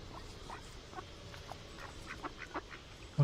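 Several ducks quack and squabble in a scuffle, short bursts of calls scattered irregularly at moderate distance over a steady background hum, ending in a louder thump.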